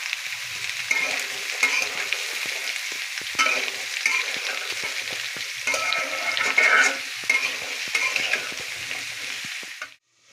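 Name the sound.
papaya being fried in a pan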